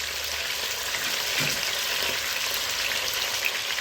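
Chicken pieces frying in a pan as they brown on the underside, a steady close hiss of oil with soft crackle running evenly throughout.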